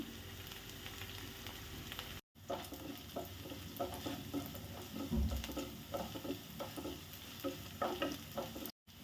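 Small shallots and curry leaves fry in a pan for a horse gram curry, with a steady crackling sizzle and repeated scraping of a spoon stirring them, interrupted by two brief dropouts.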